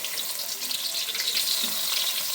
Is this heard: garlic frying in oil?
yes